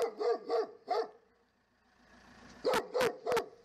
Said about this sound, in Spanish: los perros se comunican ladrando